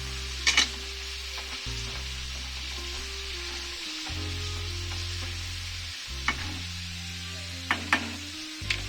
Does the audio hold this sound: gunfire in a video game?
no